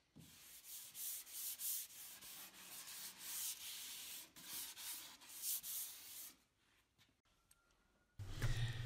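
Sandpaper rubbing over the edge banding at the corner of a wooden drawer front, in bursts of steady scratchy strokes for about six seconds, then a quiet pause before a closer rasp at the end.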